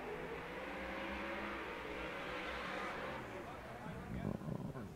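Nissan 370Z drift cars, including the NOS Energy Drink car, roaring through a corner at a Formula Drift Top 32 battle in Long Beach, with steady loud engine and tire noise and a commentator talking over it.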